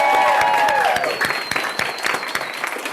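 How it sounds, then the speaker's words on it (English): Audience applause at a college reception, a burst of clapping from a room of people with distinct individual claps, starting strong and thinning gradually, with a brief tonal sound under the first second. "So if everybody could join me in giving them a warm round of applause."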